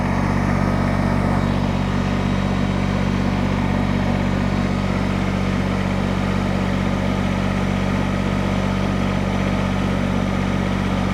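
An engine-driven digger bores a hole at just under 2,000 RPM, a loud, steady droning engine hum that holds constant throughout without pause.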